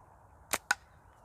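Two sharp slingshot darts snap out in quick succession and thud into a log, brief crisp impacts about a fifth of a second apart against a quiet outdoor background.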